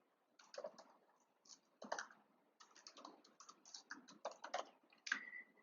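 A computer keyboard is typed on in quick bursts of close, crisp key clicks separated by short pauses, with no one talking.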